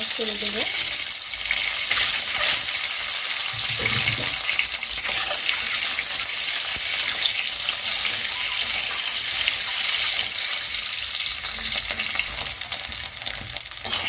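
An egg fries in very hot oil, crackling and sputtering loudly and continuously nearby, with a voice speaking faintly underneath.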